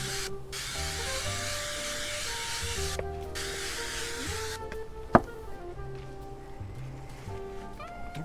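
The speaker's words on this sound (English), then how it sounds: "spray the outside of this with Pam" Pam cooking spray hisses onto the outside of a small cup in a few short, quiet bursts, with faint tonal background sounds and a single sharp knock.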